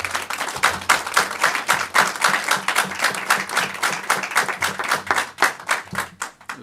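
Sustained audience applause at a school board meeting, many hands clapping in a dense, steady patter that holds for several seconds before thinning out near the end.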